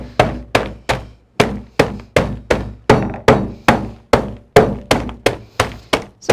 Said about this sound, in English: So I've got my hammer.